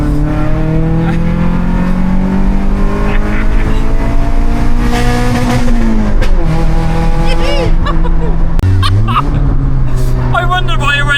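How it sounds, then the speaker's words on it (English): A Honda Civic EJ9 engine revs hard through a loud exhaust, climbing and holding high with strong harmonic whine and a couple of pitch drops and re-rises. People talk over the engine. "That's what a Civic should sound like."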